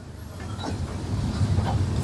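SMBT Bengaluru train rolling into Howrah station, a low rumbling drone with faint wheel clatter that grows slightly louder as it approaches, heard from nearby.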